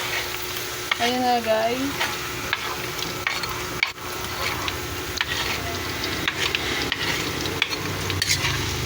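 Chopped onion sizzles steadily in hot oil for chicken pastil, with a continuous frying hiss broken by scraping stirs and sharp utensil knocks against the pan; a voice speaks briefly.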